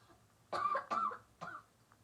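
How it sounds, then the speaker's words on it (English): Three harsh coughs in quick succession, close and fairly loud, with a brief pause before the last one. "I've just been coughing a lot"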